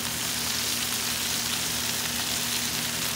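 Chicken frying for a broccoli stir fry with a tangy sauce, giving a steady, loud, close sizzle with a faint low hum beneath and no talking.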